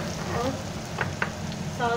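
Chopped onion frying in a pan for chicken vegetable spaghetti, a steady close sizzle with a few sharp clicks of stirring and a brighter crackle toward the end.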